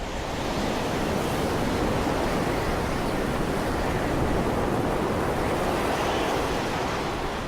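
Wind gusting over a stormy sea with surf, a dense, steady roar of waves and wind that fills the whole stretch at constant loudness, with no voices.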